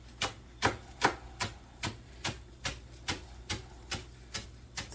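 A knife chops fresh basil on a cutting board in a kitchen, about a dozen crisp, evenly spaced taps at a steady rhythm, close and fairly quiet, with no talking.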